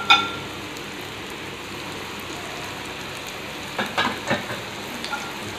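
Horse gram (kollu) vadai fry in hot oil in a pan with a steady, even sizzle, a soft crackling hiss that runs throughout, with a few louder pops and spatters near the end.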